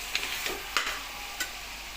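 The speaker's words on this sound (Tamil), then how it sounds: "தக்காளி வந்து கொஞ்சம் உப்பு போட்டு வதக்கணும்னா சீக்கிரம் வதக்கிடும்" Tomatoes sautéed with salt in a pan for mutton biryani: a soft, quiet sizzle with three light stirring taps and scrapes over two seconds, no voices.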